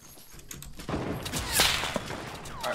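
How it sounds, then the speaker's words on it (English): Enemy gunfire in a Fortnite battle royale match, a burst of sharp shots and rattling fire with whip-like cracks over a few seconds, fairly close and loud. "They see you and they're trying to shoot you."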